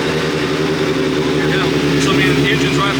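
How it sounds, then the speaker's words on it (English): A drift race car engine runs loudly and steadily close by at a drift event at Road America, with a dense continuous roar and people talking over it. "So I mean, the engine's right behind you. And you can hear it out there."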